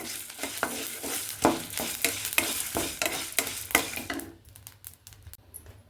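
Sesame seeds added to a hot pan and stirred with a spoon, giving a scraping, rustling stir with light sizzling for a few seconds, then a quieter tail of faint crackle.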